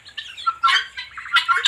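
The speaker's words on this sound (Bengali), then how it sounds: "চীনা মুরগি আপনারা এখানে দেখতেছেন" Chinese chickens, a small flock of hens and a few roosters, cluck in short, bright bursts that rise and fall unevenly, several sharp calls overlapping close by, with no talking.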